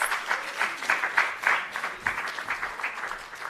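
Crowd applause at a British Council conference on innovation for African universities, a moderately loud wash of many hands clapping that pulses unevenly and fades a little toward the end.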